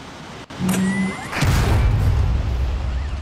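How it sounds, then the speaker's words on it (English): An Iron Man chest repulsor in a Roblox game fires as a short charging whine followed by a loud booming blast that fades into a rumbling tail. "You push R for chest repulsor."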